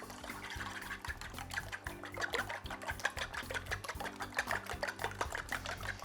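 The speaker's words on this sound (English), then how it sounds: "I'm going to take 2 eggs and beat them slightly." Two eggs being beaten slightly in a bowl, a rapid, steady series of light wet clicking and tapping strokes, close and continuous for several seconds.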